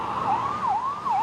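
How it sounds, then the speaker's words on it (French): An ambulance siren wails through the streets of New Delhi, its pitch rising and falling in a steady repeating sweep, fairly loud against a constant wash of city traffic noise. "À New Delhi, la capitale, les sirènes résonnent sans discontinuer."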